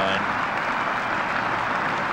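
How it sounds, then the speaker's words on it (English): A large cricket crowd at Lord's in the 1973 Benson & Hedges Cup final between Kent and Worcestershire rises in sustained applause for a batsman's dismissal, a dense, even wash of clapping without a break. "this enormous crowd rising now to Brian Luckhurst out for 79"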